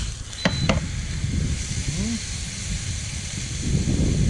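Spinach and roasted garlic stirred around a hot pan, a steady sizzle and hiss with soft scraping strokes, and a voice talking over it.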